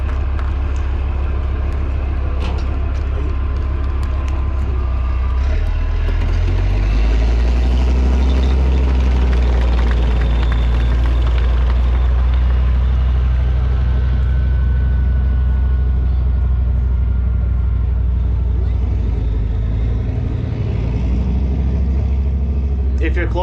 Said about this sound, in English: the engine is so powerful, it shakes the air around the tank